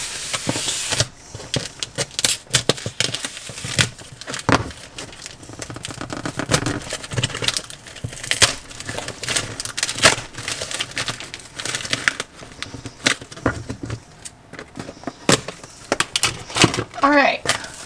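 Someone cuts open and unboxes a shipped package from the Netherlands at home, making close crinkling, tearing and rustling of packing material in irregular bursts, with a person talking at times.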